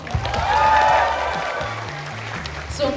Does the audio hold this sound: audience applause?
yes